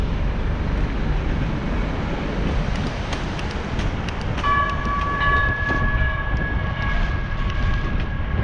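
A train rumbles steadily past a rainy road crossing, loud and close throughout, and partway through a sustained horn sounds alongside the rolling noise.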